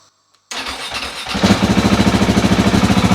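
After a moment of quiet, a KTM 690 Enduro R motorcycle engine, with its evap and secondary air systems removed, cranks and catches, then settles into a loud, steady, throbbing idle close by.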